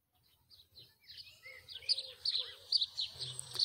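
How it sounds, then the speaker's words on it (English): Bird chirping in the Dear Red video game, a series of high, thin tweets starting faint and growing clearer and more frequent, with soft low background ambience underneath. "There's a bird up there."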